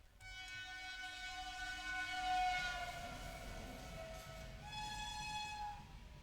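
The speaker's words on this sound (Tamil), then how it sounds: "இது சின்ன ட்ரெயினா, ஊன்னு சத்தம் வேற மாதிரி இருக்கு." A small train approaches with a long, loud, steady horn blast that swells as it nears, then drops in pitch and sounds again, over a rumbling rail noise.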